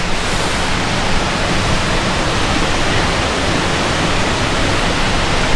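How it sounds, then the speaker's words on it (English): A steady, loud roar of falling water from Munduk Waterfall in Bali fills the whole clip, broadband and unbroken, like standing close to a waterfall. "Welcome to Munduk Waterfall."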